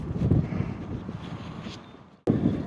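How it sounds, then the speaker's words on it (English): Gusty wind blows across an open pasture field, buffeting the microphone in low rumbling bursts, dropping briefly before a sudden strong gust returns. "hope you can hear me after above this wind"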